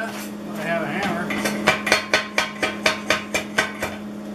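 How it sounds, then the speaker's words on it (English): A hammer chips welding slag off a weld, starting with irregular scraping and taps, then settling into about ten sharp, evenly spaced metallic strikes, close and loud over a steady background hum. "I don't have a lot of fancy welding slag tools and all that. I have a hammer."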